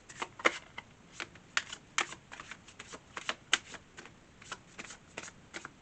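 Tarot cards are shuffled and handled up close, giving crisp repeated riffling snaps and soft slides in irregular bursts, fairly quiet, with no talking.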